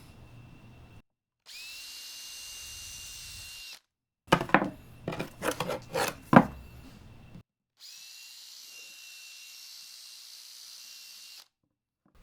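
A cordless drill drives screws to mount a shop light panel. There are two long steady whirring runs, and between them a burst of choppy revving and clattering bites as a screw seats into the mounting.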